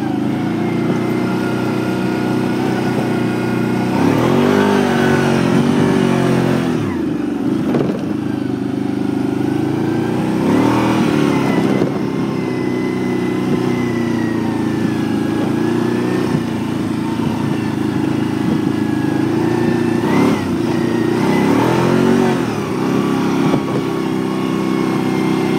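A 2009 Can-Am Outlander 800 Max ATV runs continuously while riding through sand pits. Its engine drones loudly and close, with several rising revs and throttle swells.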